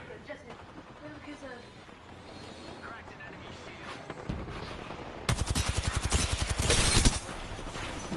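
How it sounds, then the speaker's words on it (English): Gunfire from several players shooting in a video game, with a steady burst of rapid shots that grows loud near the end, heard under and between a player's speech. "We're all shooting this man for him, and he still dies."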